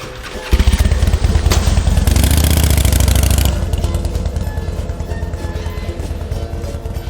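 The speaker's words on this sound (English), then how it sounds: "motorcycle," Motorcycle engine starting and revving loudly, a dense rumbling roar that builds over the first seconds and then settles into a steady idle, heard close with no talking.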